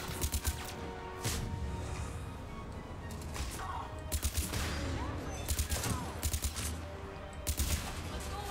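Gunfire in the video game Mass Effect 3 crackles in scattered short bursts and single shots over a busy, fairly quiet game soundscape, with a voice talking now and then.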